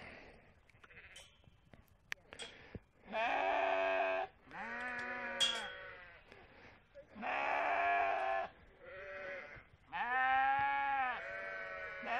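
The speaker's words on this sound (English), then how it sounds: "Seems to got the sheep very excited around here." Sheep bleat repeatedly and loudly nearby along the Offa's Dyke path between Kington and Knighton in the Welsh borders. Several long, overlapping calls come in bursts, with quieter gaps of rustling in between.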